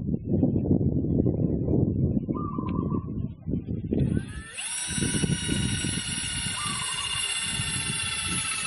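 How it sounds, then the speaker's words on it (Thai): A power drill whines at high pitch as it drives self-drilling screws into decorative perforated steel panels, a steady buzzing run following a few seconds of rough handling noise. "เดี๋ยวเราจะทำการยึดด้วยสกรูตัวเกลียวปล่อย ปลายสว่านนะครับ"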